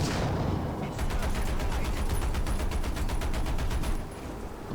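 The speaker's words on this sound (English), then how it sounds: "The machine gun worked there." Machine gun firing from a British M10 Achilles tank destroyer in War Thunder, a rapid steady burst of close, loud shots lasting about three seconds over a rumbling engine and battle noise.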